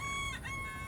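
Chickens clucking with a rooster's crow rising briefly, heard as a faint, steady backdrop with a short swelling call near the middle and no talking.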